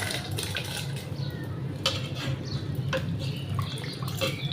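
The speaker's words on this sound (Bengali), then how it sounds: "এই তো এখন আমি পোলোর চালটা ছেড়ে দিব।" Rice for pulao goes into a pot with water, a wet, sloshing patter and light clinks of metal cookware, steady and close over a few seconds without any talk.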